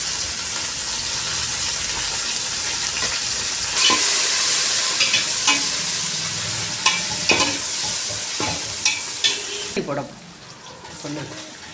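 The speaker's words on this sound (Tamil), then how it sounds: "அதுக்கப்புறம் புதினா கொத்தமல்லி போட போகிறோம்" Onions fried golden for a home-style prawn biryani, with mint and coriander added, sizzle steadily in a pan. A hiss runs throughout, broken by several sharp stirring knocks and scrapes, and the noise thins out near the end.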